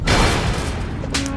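Cartoon explosion of a nut shop packed with peanut butter in an animated movie: a loud, sustained roaring blast with crackling debris that rumbles on for over a second without letting up.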